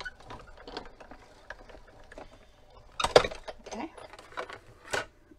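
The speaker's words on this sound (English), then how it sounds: "put this inside of my Big Shot, and crank it through." A Big Shot die-cutting machine is cranked through with an embossing folder, making irregular faint clicking and grinding mechanical bursts with one louder clunk midway, and a voice speaks briefly.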